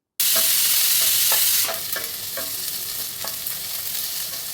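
Two large sliced onions and dried chillies sautéing in hot oil, a loud sizzle bursting in sharply as they hit the pan, then easing into a steady crackle with regular scraping stirs close up.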